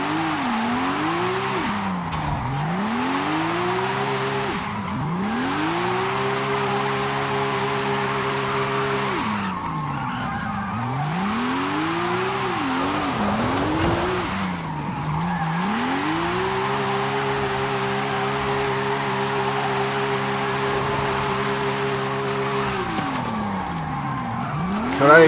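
A 1970 Porsche 914/6 in Forza Horizon 5 on an AWD drift tune, engine droning and revving in long sweeping rises and falls as the car slides through repeated drifts, with hissy tire scrub between passes, loud and continuous.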